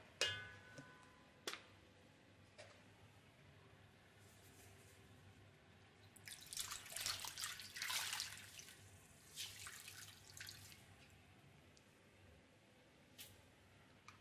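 Water splashing and dripping while a person lying in bed is washed with a cloth, soft wet swishes and drips close by, loudest in a burst in the middle, otherwise quiet with no talk.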